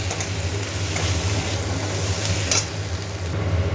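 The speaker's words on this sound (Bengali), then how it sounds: "এবার এটাকে ভালো করে কষিয়ে নিই" Onion sautéing in oil with salt and ginger-garlic paste, a steady sizzle with scraping stir strokes over a constant low hum, close and fairly loud.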